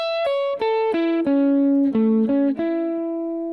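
Guitar playing the second chord of an arpeggio pattern, a quick run of picked notes stepping up and down and ringing together, close, clean and alone.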